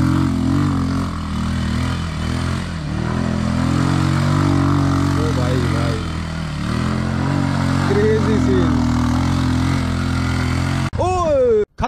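An ATV bike off-roading over dusty, uneven ground, its engine droning loud and steady with revving swells throughout, ending in a sharp rev and abrupt cutoff.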